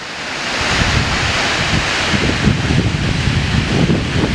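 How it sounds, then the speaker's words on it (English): Taylor Gill Force waterfall pours steadily in a wooded gill, a loud continuous broadband rush of falling water with wind buffeting the microphone throughout. "There's the waterfall."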